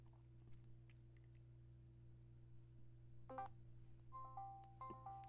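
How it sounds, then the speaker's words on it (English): Someone chews on a Combos snack, making soft, sporadic crunching bursts close to the microphone against a steady low hum, with the crunches clustering toward the end. "Sorry if you hear me crunching on something. I'm actually chewing on combos."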